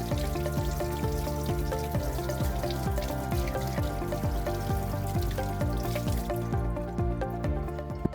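Water runs steadily through a vehicle air filter during a rinse, a continuous close splashing and trickling flow that holds constant throughout, with no speech.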